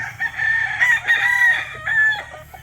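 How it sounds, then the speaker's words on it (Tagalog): Onagadori chickens on a farm, one bird crowing loudly and close in a long drawn-out call with clucking around it, and no one speaking. "napalahi ko na yung Onigadori kong pula"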